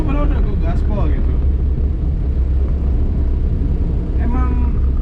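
Engine of a 1984 Daihatsu Taft F50 held at full throttle from inside the cab, a low steady rumbling drone that stays loud throughout while someone talks over it.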